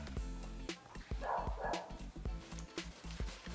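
A dog barks in a quick series of short, sharp yaps close by, cutting through a steady low background hum.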